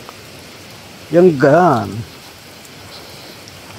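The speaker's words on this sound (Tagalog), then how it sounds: "Grabe guys, ang ulan dito guys." Heavy rain falling as a steady hiss throughout, with a brief voice speaking over it for about a second.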